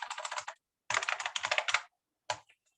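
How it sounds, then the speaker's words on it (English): A root password is tapped out on a computer keyboard in quick bursts of close, crisp keystrokes, two longer runs followed by a few final taps, with no talking. "Wow, I'm typing badly this morning. It's the keyboard."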